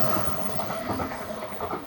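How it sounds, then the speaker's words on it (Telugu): A Japanese bullet train departs Okayama station with a steady rolling rumble and hiss, a continuous fairly loud drone with faint clattering beneath, no voices. "ఈ ట్రైన్ అసలు టేక్ ఆఫ్ చూడండి, ఇప్పుడే స్టేషన్ నుంచి బయలుదేరింది"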